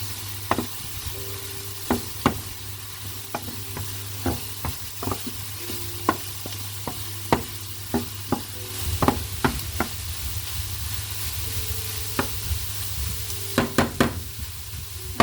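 Food cooks in a pan under a constant low sizzle, while a utensil scrapes and taps against the pan again and again in irregular strokes, close and clear with no talking.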